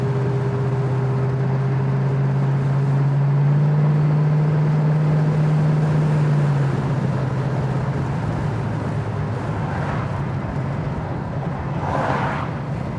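Interior sound of a 1973 Ford Mustang Fastback cruising down the road near 55 mph: a loud, constant engine hum and tire roar that eases a little midway, with faint brief noises near the end.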